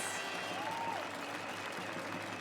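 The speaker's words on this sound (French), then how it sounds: "Aniti Lugari, on peut l'applaudir." An award ceremony audience at the Bocuse d'Or 2015 prize giving applauds a winner, a steady wash of clapping held at an even level throughout, with a brief whistle-like tone near the start.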